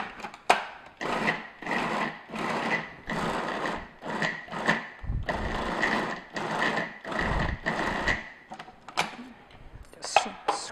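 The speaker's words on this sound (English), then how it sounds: "I'm just going to process just until it's nice and creamy and smooth and get all the lumps out" A food processor blends cream cheese for brownies in a series of short, evenly spaced whirring pulses, about a dozen in all, each one loud and close.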